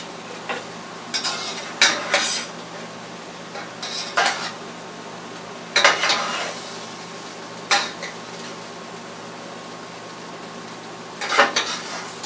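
Chicken, broccoli, potatoes and onions stirred in an oiled pan, with several separate bursts of utensil scraping and clatter against the pan over a low steady background.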